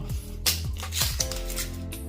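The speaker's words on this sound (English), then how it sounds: "Let's pull this plastic off." Plastic wrap crinkles and tears as it is peeled off a Spigen Ultra Hybrid case for a Google Pixel 6 Pro, in a few close, crackling bursts over a faint steady background tone.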